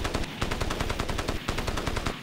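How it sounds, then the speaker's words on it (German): Loud, rapid machine gun fire from the video game Crysis, with continuous bursts of closely spaced shots and only short gaps. It sounds near and dominant, and no one talks. "Wo wird geballert?"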